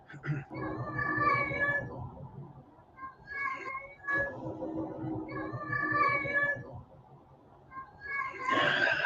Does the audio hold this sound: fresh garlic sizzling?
no